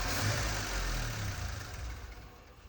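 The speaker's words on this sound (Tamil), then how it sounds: "ப்ரெஷர் கம்மியாக இருக்கனால இன்ஜின் மிஸ்ஃபயர் ஆகுது, மிஸ்ஸிங் வருது" A Volkswagen Polo engine runs roughly at idle, misfiring from low fuel pressure caused by a fuel pump fault, with an uneven low rumble that wavers and stumbles over a few seconds.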